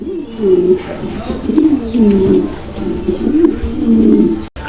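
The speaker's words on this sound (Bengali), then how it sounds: "এখানে আরও একজোড়া কবুতরের কালেকশন রয়েছে" Fancy pigeons in a pen coo loudly and close, a pair of birds making repeated low rolling coos that overlap almost continuously.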